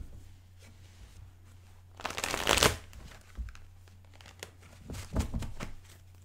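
Tarot cards being shuffled and laid out by hand, with a loud riffle burst in the middle, softer card flicks and rustles around it, close up over a faint hum.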